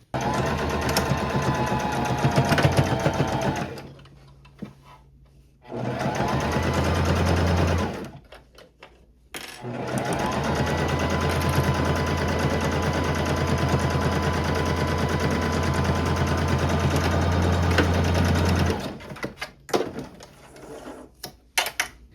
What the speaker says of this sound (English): And now we can sew along this line here on each side.